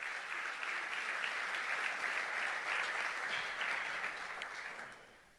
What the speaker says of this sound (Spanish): dale un aplauso al Señor en esta hora.